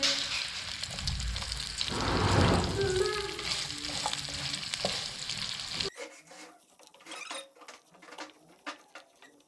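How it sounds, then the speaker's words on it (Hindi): Chopped onion frying in a pan gives a dense, crackling sizzle that swells and then thins out, with occasional stirring scrapes, close and fairly loud, and no voices. "यहाँ पे एक बड़ा कटा हुआ प्याज है, ये भी डाल देंगे। इनको फ्राई कर लेंगे।"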